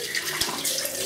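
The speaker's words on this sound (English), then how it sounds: "So I'm putting it under hot water now." Hot water runs steadily from a tap in a continuous, fairly loud rush with a brief knock partway through, used to heat a safety razor blade, with no talking.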